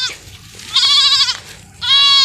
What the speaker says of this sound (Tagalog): talagang maingay oh ito yung anak niya